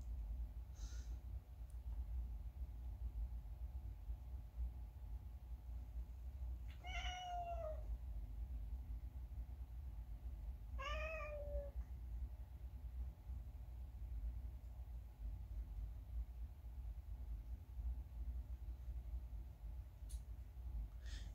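Cats squabble over a bedroom, giving two separate drawn-out yowling meows several seconds apart over a low steady rumble, quiet and somewhat distant with no talking.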